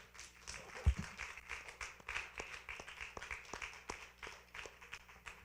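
A church congregation claps together during a worship service, a fairly soft, rhythmic run of hand claps that continues steadily for several seconds.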